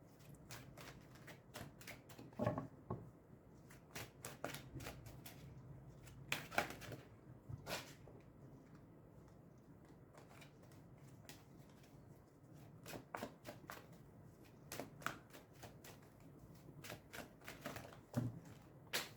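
Tarot-style cards being shuffled by hand, a long run of soft, quick riffling and flicking bursts with brief pauses between them, close and fairly quiet, no talking.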